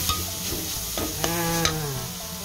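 Holy basil and red-eyed koel meat stir-fried dry and spicy in a pan, with a steady sizzle and occasional scraping stirs close by.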